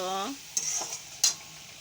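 Spice paste for prawns frying in a pan, with a low sizzle under two short sharp scrapes of a spoon stirring against the pan, close by.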